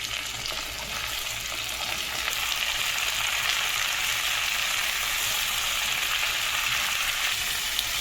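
Potato, tomato and onion flower fry in a pan with spices, making a loud, continuous, even sizzle heard up close without talk.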